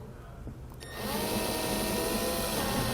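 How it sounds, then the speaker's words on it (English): A power drill drives screws to mount an RV charging station, starting abruptly about a second in and then whirring steadily and loudly up close with no talk over it. "and then install the rest of your screws."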